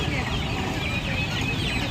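Black hens clucking amid the busy din of an outdoor poultry market, their calls blending into a dense, steady crowd of voices and background noise.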